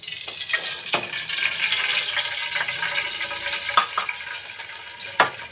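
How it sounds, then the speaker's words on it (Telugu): Cooking oil, about a glassful, is poured into a pan for tempering, making a soft continuous pouring and sizzling hiss with occasional sharp clinks, close by and without speech. "ఒక గ్లాస్ వరకు ఆయిల్ పోసుకుంటున్నాం."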